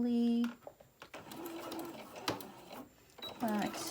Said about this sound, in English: Now I'm going to start by sewing right over here very carefully.